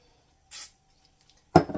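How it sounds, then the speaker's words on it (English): A brief hiss of cooking spray onto the back of a spoon, then a quiet pause and a sharp metallic clink and scrape nearby. "I'm going to spray the back of my spoon just a tad bit"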